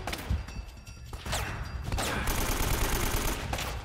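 Gunfire in Uncharted: Drake's Fortune, rapid bursts of shots and impacts that come in clusters and then settle into sustained firing, with no voice over them.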